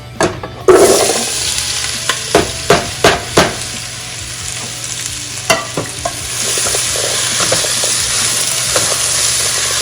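Potatoes drop into hot olive oil on a stove, a run of sharp clattering splashes followed by a loud, steady close sizzle of frying with no talking.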